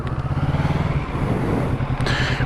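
A new Kawasaki Ninja 650 motorcycle engine with a close, throbbing idle, then a steady rumble under a brief rev, loud and alone without speech.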